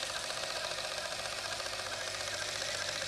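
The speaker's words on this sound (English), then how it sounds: "this Sinclair machine has a small printer on it" A small Sinclair computer printer runs continuously, giving a steady, buzzing, rapidly chattering mechanical whir at close range with no pauses.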